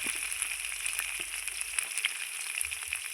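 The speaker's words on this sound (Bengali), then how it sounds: "সঙ্গে একটু হলুদ গুঁড়ো দিয়ে খুব সুন্দর আলুটাকে আমি লাল লাল করে ভেজে নেব" Potatoes frying in oil in a pan with salt and turmeric give off a steady close sizzle with faint crackles and pops throughout.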